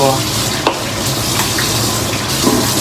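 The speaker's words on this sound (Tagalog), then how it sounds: "Pritong isda, pritong bangos. Fried milkfish." Milkfish frying in a pan gives a steady, loud sizzle of hot oil, with a few brief clinks and scrapes of stirring breaking through.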